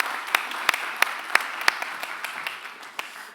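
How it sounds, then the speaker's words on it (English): Conference audience applauding, a light scattered patter of clapping with a few distinct, evenly spaced sharp claps near the front standing out over the softer background hands. "We can give you a round of applause."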